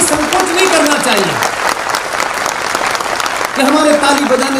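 A crowd at an Indian political speech claps steadily throughout. A voice keeps talking over the applause.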